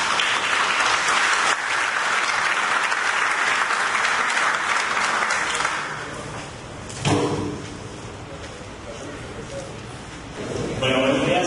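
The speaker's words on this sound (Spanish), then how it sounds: "Recibámoslo con un aplauso, por favor." Loud, dense audience applause welcoming a speaker at a systems engineering conference, holding steady for several seconds before fading, followed by quieter room noise and a brief voice.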